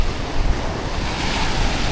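Rough sea waves breaking on a Cambodian beach as a storm approaches, a loud continuous roar of surf mixed with gusting wind buffeting the microphone.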